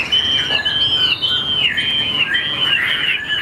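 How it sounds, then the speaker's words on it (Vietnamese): A caged hwamei songbird sings loud, close whistled phrases with rising and falling trills in a continuous run, after its cage has been shaken. "Dừng lại em này, hót ngay."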